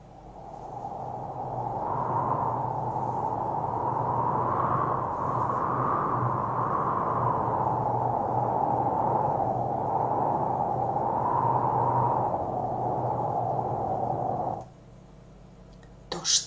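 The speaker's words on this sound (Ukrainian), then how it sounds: "це звук вітра" Steady whooshing wind with a gentle rise and fall, sustained and fairly loud, cutting off abruptly near the end.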